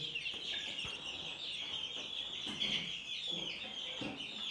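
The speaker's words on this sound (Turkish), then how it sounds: "bu videoda sizlere introzu civcivlerini ve kaz civcivi yani badikleri göstereceğim" Faint, high peeping of turkey chicks and goslings on a farm, continuous and overlapping, with a few louder chirps standing out against a quiet background.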